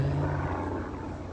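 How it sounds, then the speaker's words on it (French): A low, steady mechanical rumble of a helicopter passing overhead, moderately loud and continuous, with a pulsing droning quality and no voices. "Ah, ça, c'est un hélicoptère."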